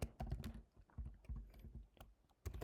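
Quiet clatter of fingers typing on a computer keyboard, uneven bursts of key clicks with short pauses, close and alone with no talk.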